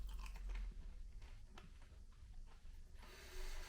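Hot Burger King chips, soft inside and crunchy outside, are chewed close to the mouth in irregular crunching bites that run for several seconds with no talking.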